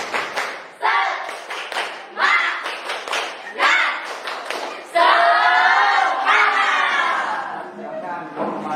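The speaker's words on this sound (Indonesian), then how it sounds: "tepuk semangat" A class of students stands and performs a rhythmic spirit clap, bursts of patterned clapping with chanted voices repeating in quick groups before a longer sustained cheer, close and lively.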